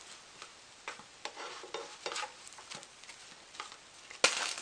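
Bread slices fry in butter on a griddle with a steady crackling sizzle, as a spatula scrapes and clicks against the surface while they are flipped, ending in one louder scrape.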